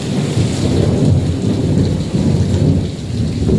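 A loud, rolling thunder rumble runs through heavy rain in a lightning storm, the low boom swelling and fading over steady downpour on a rooftop terrace, with no voices.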